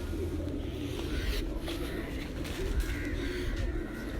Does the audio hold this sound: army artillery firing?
no